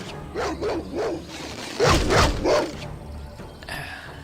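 Wild dogs barking in the Baldur's Gate fantasy video game, a run of several sharp barks and yips in quick succession with no talk over them.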